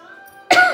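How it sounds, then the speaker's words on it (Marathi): A woman gives a single sharp, close cough that bursts out after a second of quiet household background hum. "मला सारखा खोकला येतोय"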